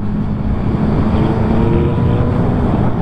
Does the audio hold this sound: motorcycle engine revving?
yes